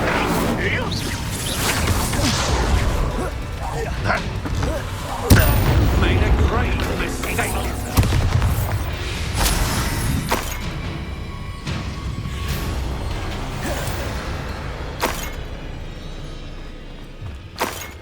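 Incendio fire spell cast during combat in the Hogwarts Legacy video game, with a loud, continuous roar of booming blasts, whooshes and crackling impacts and a sharp burst near the middle.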